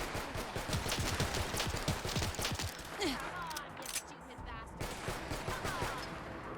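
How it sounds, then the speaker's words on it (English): Gunfire in modded Fallout 4 as the player shoots at a wall: fast repeated shots rattle in clustered volleys, then thin out amid a few mechanical clicks and faint background voices. "I'm probably shooting the wall there"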